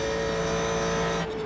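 Ford GT3 race car engine at Road Atlanta in the iRacing sim, a steady droning tone held under braking into a corner, loud and close, dropping slightly near the end with no talk.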